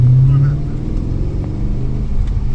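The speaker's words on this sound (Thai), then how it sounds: "เสียงเครื่อง V8 เนี่ยใช้ได้เลยนะครับ" A BMW M5 E39 sedan with a rare V8 engine idles nearby, its low steady rumble filling the short stretch with slight swells, loud and close, with no one talking.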